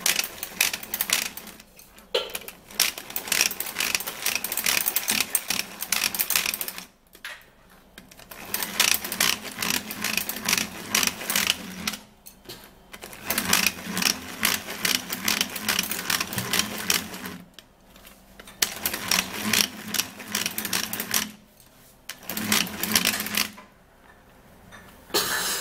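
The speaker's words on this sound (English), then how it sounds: "I'm gonna be using my manual mixer. The manual mixer is gonna finish the job for me." A manual mixer whirs and rattles while stirring a skin treatment mixture in a bowl, running in bursts separated by short pauses.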